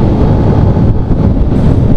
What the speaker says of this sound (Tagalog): hinahampas ng hangin ng aking motor